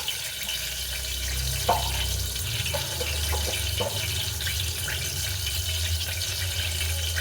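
A continuous hissy crackle of mustard seeds in hot oil with a few faint pops and spits, heard on its own without talking.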